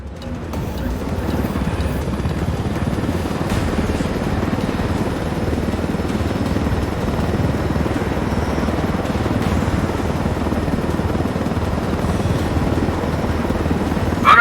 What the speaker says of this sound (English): I told Griffin I could figure out how to fly this thing. Qualify for planes. But not choppers